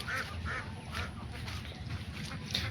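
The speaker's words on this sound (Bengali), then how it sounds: "এই যে হাঁস পানিতে নামার জন্য প্রস্তুতি নিচ্ছে এবং নেমে যাবে" Faint, distant quacking from a group of village ducks by the water, a few separate calls spaced out over a low background hum.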